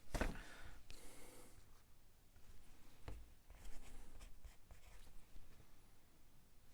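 A pencil scratching a measurement mark onto wood during house framing, several quick strokes up close, with brief breaths and rustling around it.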